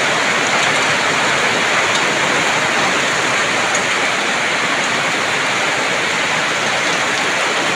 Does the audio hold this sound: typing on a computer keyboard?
no